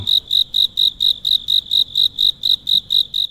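Cicadas chirp in short, evenly spaced shrill pulses, about four per second, loud and steady with no other sound over them.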